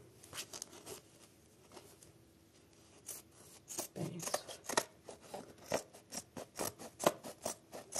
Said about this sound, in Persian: پارچه اضافه رو به طور کامل مماس با قاب برش میزنیم و اضافه رو میچینیم